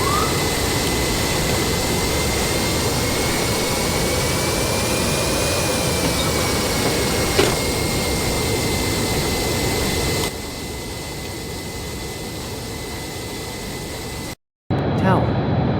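Jet airliner engines roar as a steady, loud, broadband drone during an approach to landing, with a faint tonal whine and an abrupt dip near the end; voices speak over it at times.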